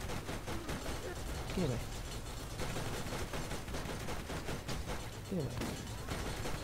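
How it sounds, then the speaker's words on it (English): Automatic turret gunfire in the game Borderlands, a steady dense rattle of machine-gun fire and mechanical clatter running throughout, with a voice speaking briefly over it. "So it seems a lot of machine and automatic turrets."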